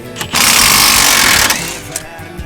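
A pneumatic impact gun with an impact-rated socket zips off the rear wheel bearing bolts on a Skoda Fabia vRS, one loud sustained rattling burst lasting about a second and a half, then a fading tail with faint shop noise.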